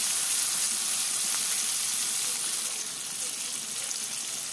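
Pieces of fish frying in hot oil seasoned with salt and turmeric, giving a dense, even hiss of sizzling that stays close and fairly loud and eases slightly toward the end.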